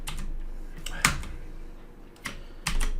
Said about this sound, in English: There's something going on with my keyboard.